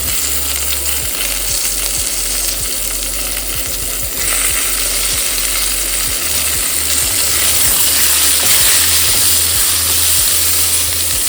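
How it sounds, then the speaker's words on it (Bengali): Potatoes fry in hot oil in a home kitchen, giving a loud, continuous sizzling hiss with a steady run of soft low thumps underneath and no voices. "এবার আলুগুলো দিয়ে দিই।"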